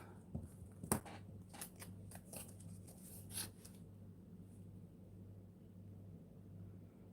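Several short crisp snips and rustles of scissors cutting paper, close by, over a steady low hum, then quiet hum alone.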